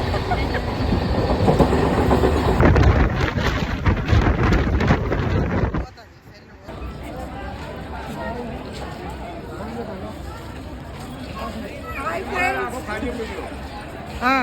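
Loud rumble and rattle of a metro train running, then quieter hum and clatter after it stops at a metro station, with voices talking over it.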